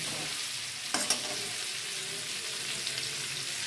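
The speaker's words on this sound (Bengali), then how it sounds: "এই যে আলু দেব, তার জন্য আলুটা আমি প্রথমে ভেজে তুলে নেব।" Potatoes frying in hot oil, a steady close sizzle with a couple of quick clinks of a utensil early on, no speech.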